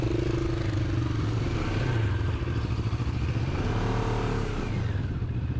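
A Moto Morini STR motorcycle pulling away on a Southern California road, the mid-pitched engine revving up through gears, close and continuous over road and wind noise.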